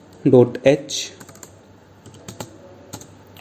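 Someone types a C program on a computer keyboard. A brief vocal sound comes first, then sparse, close key clicks tap out at an uneven pace.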